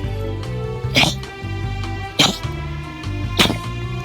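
A dog in a converted school bus gives three sharp, separate coughs spaced about a second apart, with low background hum between them.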